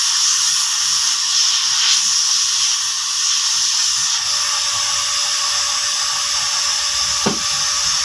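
A heating machine warms a cracked plastic car bumper ahead of plastic welding, giving off a steady high-pitched whine that runs unbroken and fairly loud, with one faint knock near the end.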